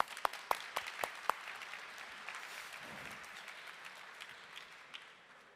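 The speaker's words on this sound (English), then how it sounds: "I want to give our panelists a nice round of applause." An audience at a crypto finance conference panel applauds the panelists, with a few sharp claps at the start settling into steady, fairly quiet clapping that tapers off.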